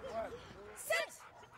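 A rented guard dog in Africa gives high, whining yips and short barks, close by and partly under a talking voice.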